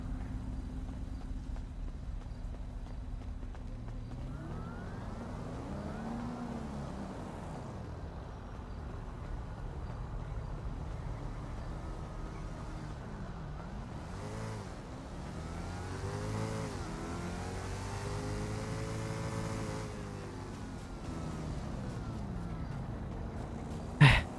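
A car driving, with a steady engine hum and tire roar throughout, the engine note rising and falling through several gear changes and accelerations, heard from inside the car at moderate level without speech.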